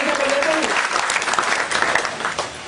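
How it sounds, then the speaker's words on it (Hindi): Audience applause at a pyramid inauguration and spiritual discourse in Nagpur, a steady dense patter of many hands clapping throughout, fairly loud, with a voice faintly audible early on. "रामायण जी का तालियां बजाइए आप"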